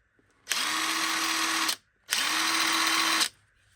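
Parkside 20V cordless drill spinning in reverse, two close whining bursts of about a second each with a quick spin-up, separated by a short gap, no talk.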